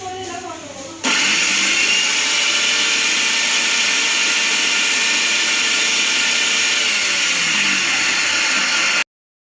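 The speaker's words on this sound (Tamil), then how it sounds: "லாஸ்ட்டில் மிக்சியில் போட்டு எப்படி சுற்றுதுன்னு பார்க்கலாம்." A repaired mixer grinder jar spins up in a mixer, starting abruptly after a second of quieter noise and running as a loud, steady whirring motor drone that cuts off sharply near the end.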